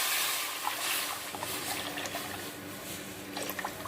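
Water pours into milk in a cooking pan for payasam, a steady splashing trickle with small drips, close and continuous with no talking.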